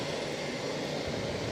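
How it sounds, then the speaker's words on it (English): A Spirit Airlines Airbus A320 on approach to land at Boston, arriving from Orlando, heard as a steady, broad jet engine roar that holds at an even level throughout, with no voices present. "Spirit Airlines 2069 coming in from Orlando on the A320"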